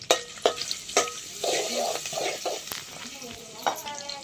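Bay leaf and garlic fry in a little oil in a pot over a wood-fired stove, with a close, bubbling sizzle and a few sharp clinks of a stirring utensil.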